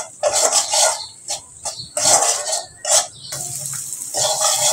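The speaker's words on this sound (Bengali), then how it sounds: "আমি মশলার ভিতরে একটু জল দিয়ে দিচ্ছি, জল দিয়ে কষিয়ে নিচ্ছি।" Water poured into spices frying with salt and turmeric in a pan sets off loud bursts of sizzling and hissing that come and go, close up, with no talk.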